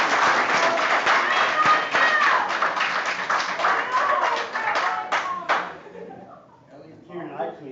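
Audience clapping at a Board of Health meeting, dense and fairly close, holding steady for about five seconds before stopping abruptly, followed by faint voices and murmuring.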